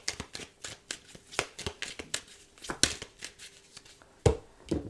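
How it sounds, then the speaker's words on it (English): A tarot card deck riffled and split by hand in a quiet room, giving a run of crisp papery flutters and taps in uneven bursts, close and fairly soft, with no talking. "I split the deck to shuffle and the Tower is there."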